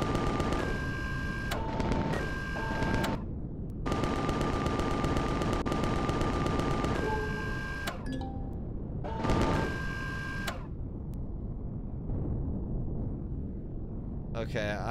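Gatling turret firing in the space survival game Empyrion Galactic Survival, rendered as several loud, sustained bursts of rapid automatic fire with brief gaps between them, plus a steady mechanical hum underneath.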